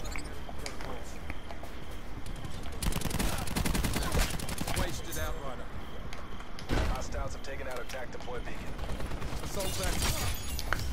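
Rapid automatic gunfire in Call of Duty Black Ops 4, fired with a GKS rifle, comes in loud, dense bursts with short gaps, while players talk over the shooting.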